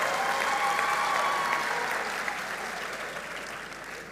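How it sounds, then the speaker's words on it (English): A graduation ceremony crowd applauding the Victoria Girls High School Choir, a full, steady roar of clapping that slowly tapers off. "Let's give the Victoria Girls High School Choir an even better round of applause"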